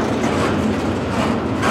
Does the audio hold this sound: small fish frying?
no